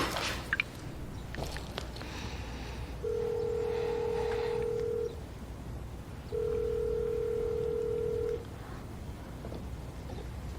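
A telephone call placed from an office, with two long, steady electronic tones, each about two seconds and separated by a short gap, over quiet room background.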